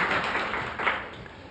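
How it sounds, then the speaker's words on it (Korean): A church congregation at a Sunday service claps briefly in welcome for visiting guests, a short burst of close, dense applause. "잠깐 우리 박수로만 환영하겠습니다."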